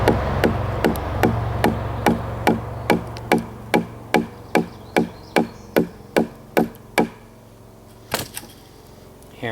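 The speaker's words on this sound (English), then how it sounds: "Hammer the knife in." A knife blade is hammered into wood outdoors, struck about sixteen times in a steady, even rhythm of sharp knocks, then two louder final blows after a short pause.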